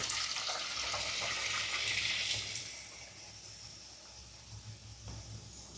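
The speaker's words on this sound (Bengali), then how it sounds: "তেলটা গরম হয়ে গেছে। এরপরে আমরা এই কচুরিগুলি দেওয়া হচ্ছে।" Peas kachoris frying in a pan of hot oil, a steady bright sizzle and hiss that is loud at first, then settles into a softer, even crackle with no talking.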